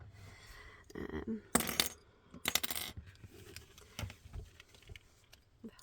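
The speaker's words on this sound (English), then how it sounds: "I'm going to get my handy dandy library clips. Let's get the metal ones." Metal library clips are picked up and handled during paper folding, with a few sharp, bright metallic clinks and clatters close by, separated by quieter rustling and small taps.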